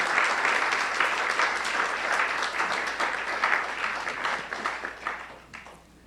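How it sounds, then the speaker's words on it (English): An audience at a New Year's Day celebration gives sustained dense applause, many hands clapping steadily before tapering off near the end. "Give him a big round of applause to them"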